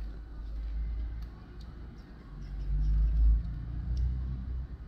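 A car engine rumbles low and steady as the driver shifts gear, with the revs briefly swelling and dropping in a close, continuous drone.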